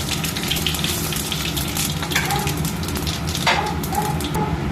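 Dry red chillies and whole cumin crackle in hot oil for a lentil tempering, a continuous close sizzle with sharp popping crackles scattered throughout and no talking.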